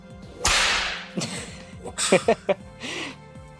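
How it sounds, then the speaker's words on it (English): A whip crack sound effect: a loud, sharp snap, followed by several quicker cracks and a final swish, all close and alone. "Insert whip noise here."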